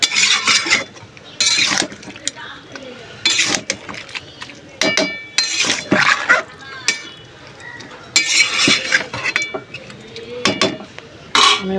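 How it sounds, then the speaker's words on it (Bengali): A metal lid goes onto a cooking pot among repeated clinks and clatters of cookware, in sharp separate bursts with quiet gaps between them. "আমি এবার একটু চাপাটা দিয়ে দিই।"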